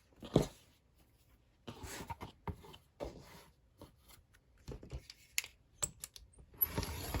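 A dull blade is pressed hard through fabric for a junk-journal cover, giving close, scratchy rasping strokes in irregular bursts with short quiet gaps between them.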